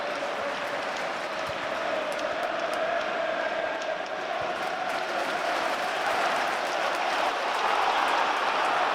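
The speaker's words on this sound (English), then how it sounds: "You can hear the crowd as well, enjoying it, right behind the lads." A football stadium crowd at a Sunderland versus Leeds United match keeps up a steady, broad roar of cheering and clapping throughout, distant and unbroken with no single standout shout.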